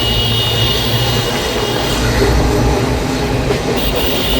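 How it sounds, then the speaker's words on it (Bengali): A train rumbles past up close beneath an overbridge in Assam, a steady loud roar of wheels and carriages with faint rhythmic clatter throughout. "ওভার ব্রিজ আছে, ওভার ব্রিজের নিচে যাইতেছে ট্রেন"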